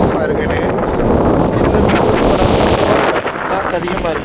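Strong wind blows by a rough, churning sea, a loud steady roar of gusts and surf buffeting the microphone without a break.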